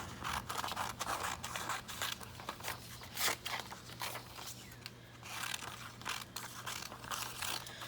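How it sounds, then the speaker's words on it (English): Scissors cutting through fabric with a steady series of crisp, close snips and crunchy chews, repeating at an even pace over a low background hum. "So let's trim this guy down."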